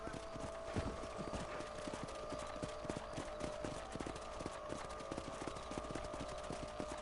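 Steady clip-clop of horse hooves from the Western video game Red Dead Redemption, a rapid, even gallop rhythm close up over a continuous outdoor ambience, with no talking.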